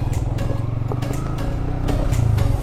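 A motorcycle rides over an iron bridge along an extreme railway-track route between Tagog Apu and Cipatat, its engine droning steadily up close with light clattering and rattling from the crossing.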